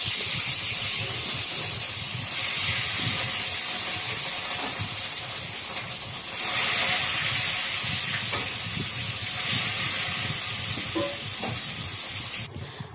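Fish fried in hot oil for a wedding-style meal, hissing and sizzling loudly and steadily with bursts of spattering, close and continuous, no voices.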